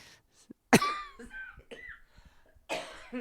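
A single sharp, loud cough near the mic, followed by softer throat noises and breathing, then another harsh cough near the end.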